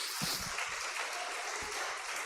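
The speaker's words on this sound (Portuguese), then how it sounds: "Aplauda Jesus" A church congregation applauds together during a sermon, a dense, steady wash of clapping that stays even and continuous for the whole stretch, with a few faint voices mixed underneath.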